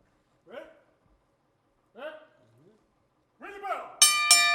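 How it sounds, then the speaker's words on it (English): A wrestling ring bell clangs loudly near the end of a Championship Wrestling from Hollywood broadcast, ringing out in bright, sustained tones after a commentator's voice is heard in short bursts. "Bell sounds, we are off and running."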